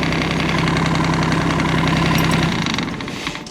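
Tractor engine idling during gravel road building, a loud close diesel rumble with steady knocking that fades and drops away near the end, no talking.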